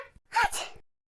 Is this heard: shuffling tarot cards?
no